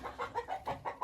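Repeated short, high chirping peeps from young birds, about six in quick succession, moderately loud with a faint barnyard background.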